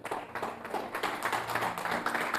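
A church congregation applauds with dense, steady clapping that carries on throughout, moderately loud and without voices on top.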